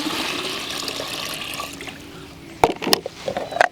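Water splashes and gushes into a camp shower bag in a shower tent, starting as a steady rushing pour and then breaking into irregular sloshes and gurgles up close.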